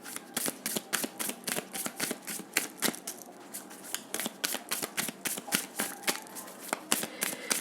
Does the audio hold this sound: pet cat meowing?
no